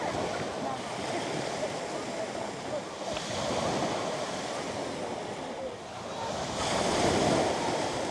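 Sea waves wash in at Manastır Bay in Erdek, a constant loud surf roar with swells building and receding, wind buffeting the microphone throughout.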